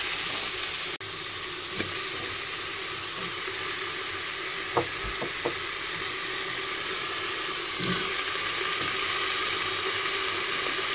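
Onions sautéing in a pan for chicken and mushroom soup, giving a steady, soft sizzle that runs the whole time, with a few faint clicks and light knocks of stirring scattered through it.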